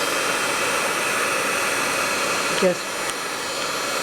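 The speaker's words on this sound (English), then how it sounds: "I'm going to now take my heat gun." Heat gun blowing a steady, loud broadband hiss to reheat ink-colored embossing, continuous from start to finish with a brief word spoken under it.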